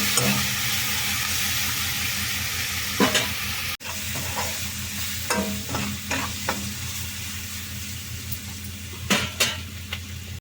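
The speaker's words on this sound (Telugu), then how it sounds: "ఉల్లిపాయ ముక్కలు అన్నీ వేగిపోయినాయి" Onion pieces fry in a pan with turmeric and ginger-garlic paste, giving a steady close sizzle broken by scattered spoon stirs and clinks against the metal.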